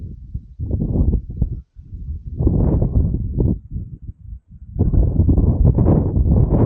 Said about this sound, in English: Oh, a bit of a gust there.